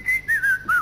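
A person whistles a short run of clear, close notes: three or four quick pitched blips, heard alone with no talking.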